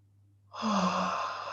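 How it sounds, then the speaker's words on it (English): A single deep breath exhaled audibly, a soft airy rush starting after a short silence and holding steady to the end, close and clear. "close your eyes, deep breath in"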